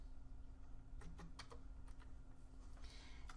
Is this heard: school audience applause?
no